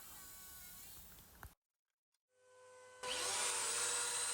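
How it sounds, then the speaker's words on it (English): A power saw cuts a hardwood stair tread with a steady, whining buzz, stops briefly in silence, then comes back louder and harsher. "Hardwood is not so easy to cut, but it goes well"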